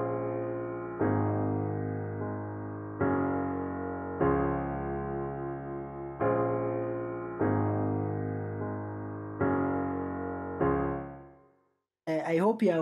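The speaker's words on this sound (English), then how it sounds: "I'm going to make this Stage Grand the main melody." A Stage Grand piano carries the main melody, layered over a softer Rhodes keyboard in an EDM-style beat. Loud sustained chords strike in repeated blocks about every second or two, then fade out before a short burst of another sound.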